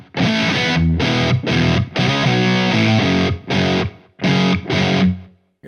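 Electric guitar driven through a Boss Waza DS-1w distortion pedal at a moderate gain setting, playing loud chords in short bursts separated by brief silences, with no talking.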